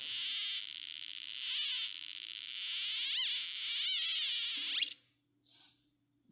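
Electronic tone from a light-controlled 555 timer circuit, a buzzy high-pitched whine that wavers and warbles in pitch, then jumps to a piercing steady squeal near the end.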